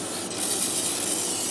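A loud, steady hiss of cooking spray sprayed close into a Ninja Foodi pot for a second or two.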